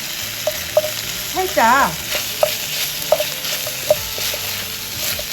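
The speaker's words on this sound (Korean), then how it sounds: "양파를 넣어서 볶아주시는데" Onions stir-fried in a pot for a Korean potato gochujang stew, giving a steady soft sizzle with a few sharp scrapes and clicks of stirring, close by, while a voice briefly speaks.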